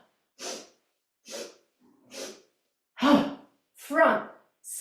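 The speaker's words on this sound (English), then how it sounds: "it's 3 short in through the nose, out through the mouth, like a long ha" Slow breathing exercise during yoga therapy: a series of separate breaths through the nose and mouth, close and fairly loud, each lasting about half a second with silent gaps between them, and the last two stronger and longer.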